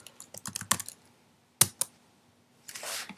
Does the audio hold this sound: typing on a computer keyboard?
yes